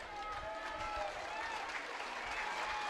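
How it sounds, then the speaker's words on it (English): Softball fans in the stands at a Michigan Wolverines versus Florida Gators game keep up steady rhythmic clapping, distant and continuous, spread across a crowd, with an announcer talking over it. "And the claps resume again."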